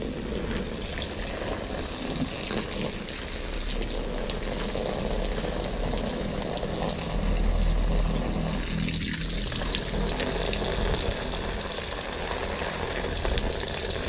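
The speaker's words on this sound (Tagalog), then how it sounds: "naglalagay na tayo ng tubig" Water from a hose pours steadily into a shallow azolla pond being filled for cultivation, a continuous gushing, splashing wash that stays loud and even throughout, swelling briefly midway, with no voices.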